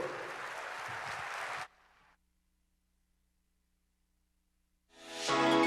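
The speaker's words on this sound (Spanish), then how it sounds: "Que se mantenga ese aplauso" A crowd applauds at a leadership pre-launch event with John Maxwell in Panama. A loud burst of clapping cuts off abruptly into near silence, then sound swells back in at the end.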